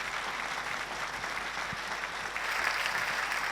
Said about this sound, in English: Can we please give our panellists a big warm round of applause?